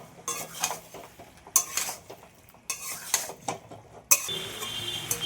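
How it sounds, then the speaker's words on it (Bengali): Boiled jackfruit is stirred and sautéed in a pan, with repeated metal spoon scrapes and clanks against the pan in irregular bursts over a soft sizzle, close and without speech. "এবার এঁচোড়টাও দিয়ে দেবো। ভালো করে কষিয়ে নেব।"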